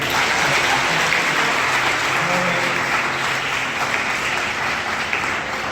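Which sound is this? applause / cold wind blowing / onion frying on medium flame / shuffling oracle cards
applause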